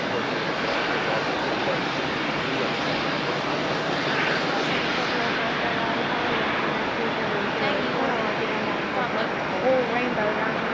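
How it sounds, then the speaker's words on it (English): A de Havilland Beaver propeller plane landing at an airport, a continuous broad engine drone holding steady and fairly loud throughout with no clear rise or fade. "Ward the Beaver landing on the backside this morning"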